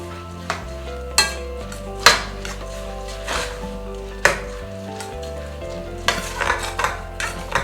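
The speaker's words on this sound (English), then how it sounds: "I'll give it a good stir" Rice, peas and mushroom get stirred in a pot for Trinidad vegan pelau, with repeated scraping clanks of a spoon over a constant frying sizzle, loud and close, no voices.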